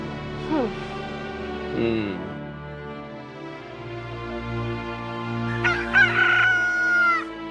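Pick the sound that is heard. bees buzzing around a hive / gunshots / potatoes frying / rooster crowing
rooster crowing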